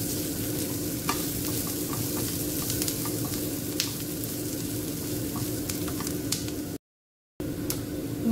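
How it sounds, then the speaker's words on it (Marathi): Kashmiri red chili powder masala frying in hot oil for dal makhani, a steady close sizzle with stirring scrapes throughout, a brief gap near the end, no talk. "मसाला मस्त तेलामध्ये भाजून घ्यायचा आहे आपल्याला"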